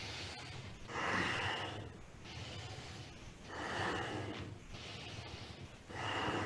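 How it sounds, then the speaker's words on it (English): Deep breathing during a kundalini yoga kriya: slow, loud inhales and exhales alternate in a steady rhythm, close to the microphone, with no talk. "Breathing deeply."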